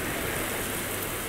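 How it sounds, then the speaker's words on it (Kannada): Heavy rain pours down in a thick, unbroken wash of hiss, fairly loud and continuous with no pauses or voices across the short stretch. "ಒಳ್ಳೆ ಮಳೆ ಸುರಿತೈತೆ ನೋಡ್ರಲ್ಲ."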